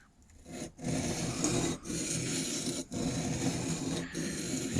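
A skew chisel cuts wood on a spinning lathe with a continuous rough, scraping hiss, broken by four brief dips about a second apart as the tool lifts and rides the turning piece, close up.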